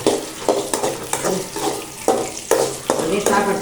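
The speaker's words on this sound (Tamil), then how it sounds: "நெய்யில் வந்து நல்லா வந்து வதங்குது முந்திரி திராட்சைலாம்." Cashews and raisins frying in ghee in a pan, stirred now and then, with a steady sizzle broken by repeated scraping strokes at a close, even volume.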